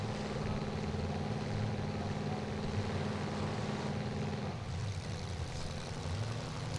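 A youth full-size truck engine at a Bash for Cash 2023 event runs steadily around 2,500 RPM, a loud, continuous low harmonic drone that drops in tone partway through and then carries on at a lower pitch.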